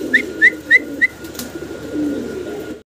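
German Beauty Homer fancy pigeons: four quick, bright whistle-like calls in a row, then a low, steady murmur of cooing that trails off, close by and with no talking.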